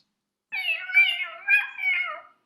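A cat meows during the Chad Gadya song at a Passover seder, giving two or three clear, high, drawn-out meows in quick succession, close and fairly loud, with no voices.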